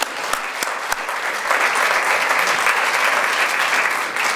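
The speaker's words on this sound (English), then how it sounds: "I want them to have a big round of applause from everybody here as well" An audience at a scholar-athlete awards presentation breaks into a big round of applause, a few sharp claps at first, then steady dense clapping filling the hall at full strength.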